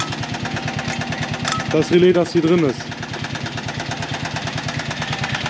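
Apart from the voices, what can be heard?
buggy engine running after warm-up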